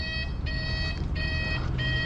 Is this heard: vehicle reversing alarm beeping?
yes